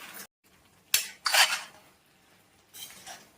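A spoon scrapes and clinks against a pot while chicken curry is stirred after coriander goes in, a few sharp metallic knocks and scrapes separated by quiet gaps, close and alone.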